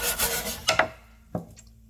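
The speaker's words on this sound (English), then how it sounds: "for the real stubborn stains, like the cut marks, you can either scrub" A wooden cutting board is scrubbed for stubborn stains and cut marks, with a few short, close rasping rubs separated by brief pauses.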